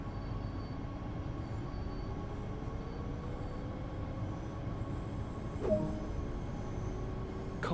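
A train rumbles steadily at low volume with a faint tonal whine rising over it and a brief clank midway.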